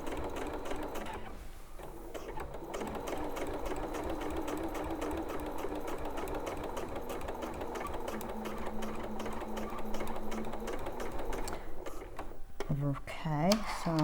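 A sewing machine driven by its foot pedal runs in a steady, even mechanical whir, stitching continuously for most of the stretch before it slows and stops near the end.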